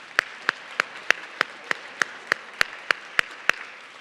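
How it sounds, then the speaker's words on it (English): Slow, evenly spaced single claps ring out one at a time, about three per second, sounding like one person clapping during a DEI plan information session rather than a full audience. "Let's give yourselves a round of applause."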